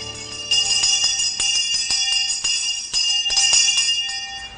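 An old-fashioned teacher's handbell rings repeatedly for prisoner counting at a federal women's prison, quick bright strokes, metallic tones lingering between each swing, close and loud.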